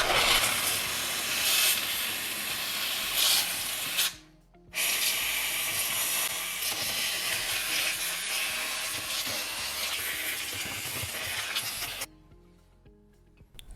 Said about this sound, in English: I'm going to use my steamer to defrost the ice even more.